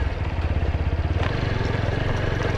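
A motorcycle engine pulls in second gear with a steady, rapid throbbing exhaust pulse, heard close and fairly loud.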